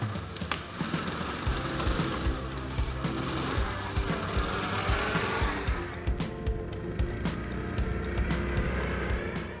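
A tracked mini ATV driving on an asphalt road, its engine droning steadily with rattling, clattering track noise throughout, close and continuous.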